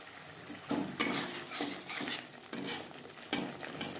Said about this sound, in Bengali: চার পাঁচ মিনিট মশলা কষিয়ে নেব